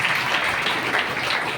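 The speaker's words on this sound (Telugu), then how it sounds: "చప్పట్లు కొట్టి దేవుని మహిమపరుద్దాం" Applause from a church congregation raised in praise of God, a steady dense wash of many hands clapping that holds evenly throughout with no voices standing out.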